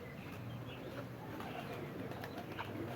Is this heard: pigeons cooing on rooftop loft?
yes